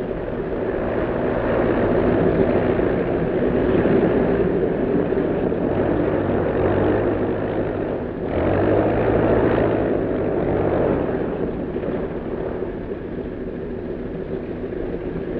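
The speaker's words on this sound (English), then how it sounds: "Trans-American plane from Miami, flight 2, just landed." A propeller airliner from Miami drones steadily as it lands at an airport in a 1941 film, a loud continuous engine hum with a slight dip midway and no speech over it.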